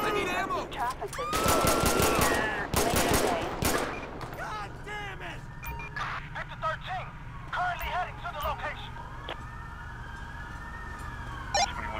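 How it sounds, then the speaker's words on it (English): Rapid gunfire bursts in the video game GTA 5 during an LSPDFR police callout, loud cracking volleys clustered early then fading, with sirens and officers' voices talking over the scene. "Shots fired, shots fired."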